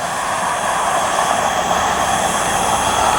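A passing train gives off a loud, steady roar that holds even throughout, with no voices over it.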